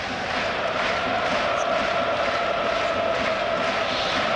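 Football crowd at Tottenham Hotspur's stadium during a Premier League evening match against Newcastle United: a loud, sustained roar and buzz of thousands of fans, steady throughout.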